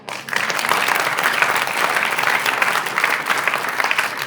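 Audience applause at a student interaction program during a visit to Urdu University, a steady sustained clapping from a large crowd that fills the whole stretch without pause.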